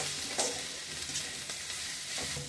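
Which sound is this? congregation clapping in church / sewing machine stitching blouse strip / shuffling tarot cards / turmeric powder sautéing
turmeric powder sautéing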